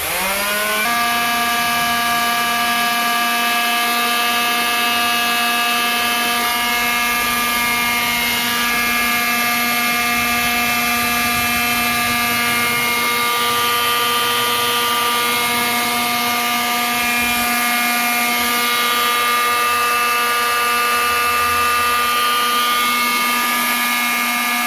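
A Black & Decker BS200 orbital sander switches on and runs at full speed, giving a loud, steady, buzzing drone with a strong tonal hum that holds unchanged for the whole stretch, close and alone.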